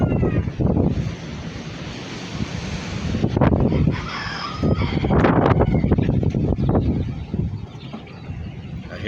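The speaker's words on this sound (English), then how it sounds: "It's still quite windy." Strong hurricane wind buffets the microphone outdoors during Hurricane Ian, roaring in gusts with surf-like rushing that swells and eases across several seconds, no talking.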